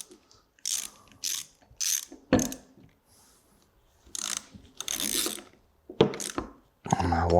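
A hand ratchet snugs the clamp bolts on a cam gear puller fitted to a Subaru AVCS exhaust cam gear. Short bursts of clicking ratchet strokes come in uneven groups, close and fairly quiet, with pauses between them.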